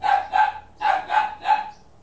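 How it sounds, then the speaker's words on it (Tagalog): A dog barks five times in quick succession, close and fairly loud, with short pauses between the barks. "Ang ingay ng aso ko."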